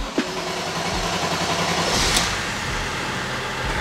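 A BMW 330d E46 with the M57 diesel engine, just after an injection pump replacement, catches with a brief knock and settles into a steady, close, loud diesel idle with no talking.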